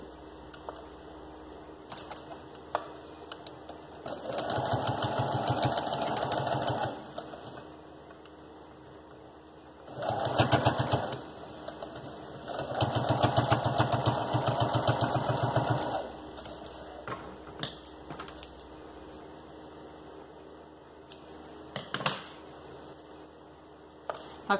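A sewing machine runs in three bursts, stitching a seam along the side of a baby shoe while avoiding the elastic, with quiet pauses and small handling clicks between runs.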